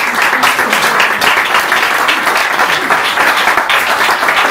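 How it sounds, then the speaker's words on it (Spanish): Listeners at a book presentation clap loudly and continuously, a close, dense burst of applause that fills the whole moment without letting up. "Así que esa es Claudia, les pido por favor un aplauso, ¿no?"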